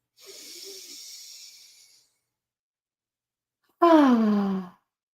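Two slow, deep breaths during a relaxation exercise, one long soft exhale followed after a pause by a louder, fuller sighing breath, close to the microphone and with no talking.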